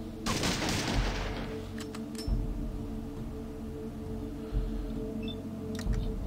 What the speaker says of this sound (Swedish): Jag bara skjuter dig, får se.